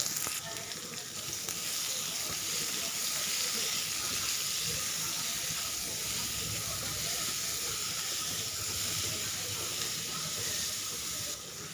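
Sliced onion sizzling steadily in hot oil with curry leaves in a pan, a continuous bright frying hiss with faint stirring, close and even throughout.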